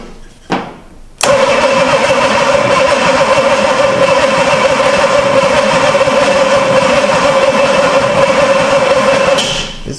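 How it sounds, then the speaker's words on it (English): Starter cranking the engine of a 1970 Pontiac LeMans, abandoned for years, through a trigger switch, with a loud, fast, steady whirring turnover that runs for about eight seconds after a brief opening click and bump. "Got the starter trigger hooked up. Let's see how fast it turns over now."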